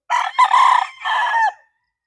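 A 17-month-old bullstag gamecock rooster crows once, loud and close, in a full cock-a-doodle-doo of about a second and a half, with no other sound around it.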